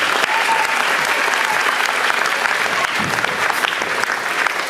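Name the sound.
audience applause for track athletes at band concert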